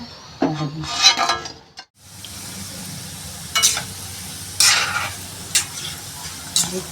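Kachori deep-frying in hot oil and being stirred, a steady close sizzle after an opening rattle, punctuated by repeated scraping clinks of a spoon moving through the pan.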